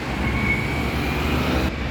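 A train rumbles steadily at the railway station in Tetouan, Morocco, with a constant low roar and a faint high whine running beneath it, close and loud without pause.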